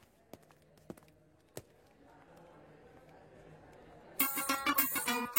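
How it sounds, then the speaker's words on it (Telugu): A phone rings in a comedy scene, a bright repeating electronic tone bursting in loudly near the end after a quiet stretch with a few soft thumps. "ఫోన్ రింగ్ అవుతుంది"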